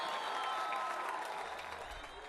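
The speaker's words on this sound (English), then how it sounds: "Crowd's so loud" A loud college football stadium crowd roars and applauds during a home team's defensive stand, a sustained dense wash of cheering and clapping that holds steady throughout.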